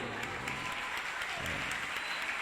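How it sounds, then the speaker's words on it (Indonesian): A crowd at an Isra Mi'raj commemoration in a pesantren claps for Ustadz Habib, a short burst of dense, even applause, loud and continuous without pause. "tepuk tangan untuk Ustadz Habib"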